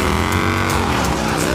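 Motorcycle engine roaring during a film chase scene through a college campus, loud and close with a high rising whine and revving surges over squealing, mixed action sound.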